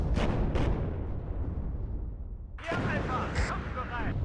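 Artillery fire in the Cold War strategy game WARNO, with heavy booming impacts and rumbling blasts up close, a sharp burst near the middle, mixed with game voice chatter and sound effects.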